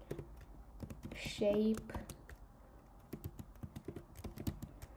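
Keys clatter on a computer keyboard while someone sets up map configuration code, with soft clicks spread across the clip and a voice speaking briefly over them.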